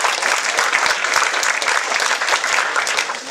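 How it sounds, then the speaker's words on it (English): A keynote audience claps in a sustained, dense burst of applause that keeps going without letting up. "Everyone, let's give Daniel a round of applause"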